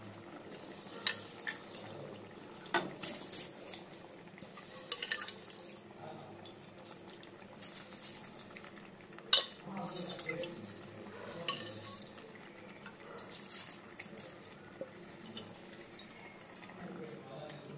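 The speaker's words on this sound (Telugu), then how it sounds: "ఇప్పుడు ఇందులోనే తగిన నీళ్ళు పోసుకోండి." Water poured into a pot of washed rice while making tomato rice at home, a soft uneven splashing and trickling with scattered drips, fairly faint and close, with a little talk around it.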